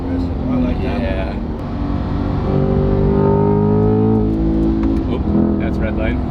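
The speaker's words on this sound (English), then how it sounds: "Oop, that's red line. Hear the tires slipping." A Chevrolet Corvette C8 engine climbing loudly toward redline with rising harmonic tones, the tires slipping as the revs peak, with people talking over the engine noise throughout.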